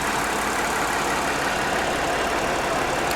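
A 2017 Lincoln Continental 3.0 AWD with 160,000 km idles steadily and quietly, its smooth, even engine hum continuous and unchanging, with no voices.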